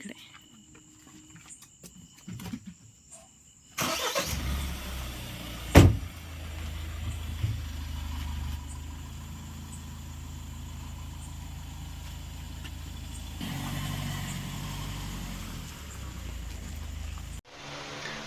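A car engine starts with a sharp jolt and settles into a steady, low idle for a trip to the hospital, with the car interior near and crickets chirping faintly outside before the motor cuts off.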